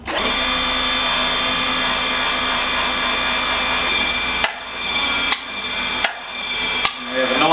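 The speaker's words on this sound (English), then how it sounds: "using our power team pump" A Power Team hydraulic pump drives a ProTorc low-clearance hydraulic torque wrench, giving a loud steady motor whine with tonal hum, then several sharp clunks at regular intervals as the wrench cycles.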